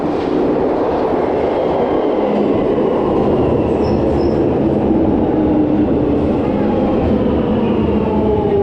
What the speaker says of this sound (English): About 1 minute to go before the train comes.